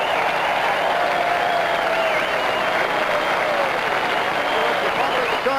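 A racetrack crowd roars steadily for the racehorse Secretariat, ridden by Ronnie Turcotte, in a loud, continuous cheer with applause that fills the whole stretch without letup.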